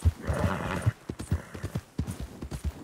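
Horse galloping in the video game Red Dead Redemption 2, a fast rhythmic run of hoof clip-clops with a couple of whinnies near the start, close and clear with no talking.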